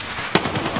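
Gunfire from an automatic weapon in the video game Escape From Tarkov during a team match, with a sharp loud shot ringing over dense, noisy combat ambience.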